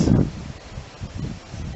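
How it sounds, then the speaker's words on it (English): Strong wind of about 35 to 40 mph buffets the microphone in low, uneven gusts, rumbling and rustling for a brief moment. "It's at least 35-mile-an-hour winds with gusts, probably 40"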